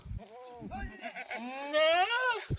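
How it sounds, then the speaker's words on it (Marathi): Kathiawadi goats bleat loudly in a long, wavering cry, with several shorter bleats before it and a few thumps nearby. "टोटल बारा शेळ्या या"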